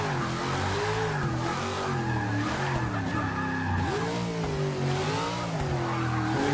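A 1969 Dodge Charger on sport tires brakes hard in Forza 6, giving a loud, continuous tire squeal with a wavering pitch over the engine's drone. The squeal stays close and unbroken throughout, with no voices.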